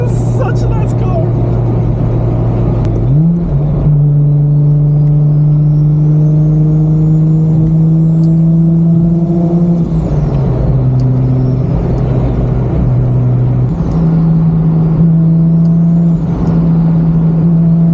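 A 500HP RB25-powered Nissan Silvia S15 accelerates hard and loud, its engine note climbing through a gearshift and rising again, with excited voices talking over the drone inside the car.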